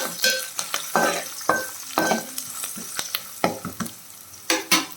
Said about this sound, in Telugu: మన రుచికి తగినంత సాల్ట్, వేసుకొని కలుపుకోవాలి.